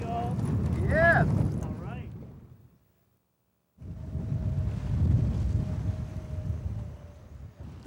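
Wind blows over a walleye fishing boat on Lake Erie, a low roaring rumble that cuts out briefly, then returns with a faint steady tone under it.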